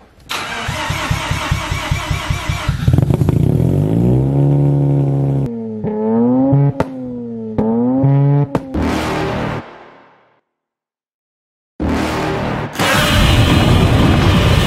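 Mazda RX7 FD3S rotary engine with a loud straight pipe exhaust starts and revs hard, then drops into a warbling idle with rising and falling blips. It cuts out to silence for about two seconds, then roars back at high revs.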